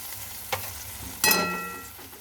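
Broth is poured into a hot pan for a thin rohu fish curry, a brief sizzle bursting up over the oil and then fading, with a short stir just before.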